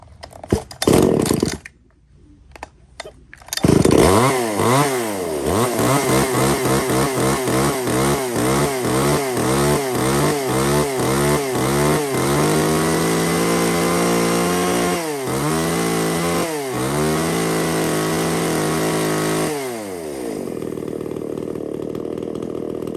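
A small, compact handheld chainsaw with a cut-down muffler, offered among used STIHL, Echo and Hitachi saws, starts with a few pulls, then revs loudly in repeated rising and falling bursts before settling and dying away, no voices.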